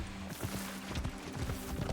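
A horse gallops in the video game Assassin's Creed Shadows, its quick rhythmic hoofbeats thudding steadily under a dense wash of background noise.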